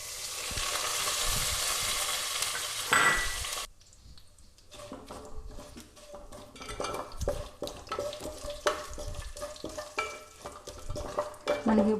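Coriander seeds dropped into hot oil as a tempering for rasam, giving a loud close sizzle for a few seconds that then falls away into quieter crackling, with scattered stirring and pan clatter.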